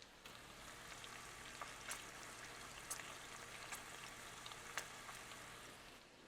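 Bacon sizzling in a bumpy-surfaced pan, a steady close crackle and hiss with scattered sharp pops spattering through, no voices.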